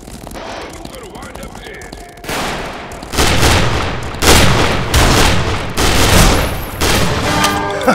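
Loud gunfire from the western shooter game Fistful of Frags, rapid bursts of shots in repeated volleys after a quieter opening with background noise, with speech-like game sounds mixed in.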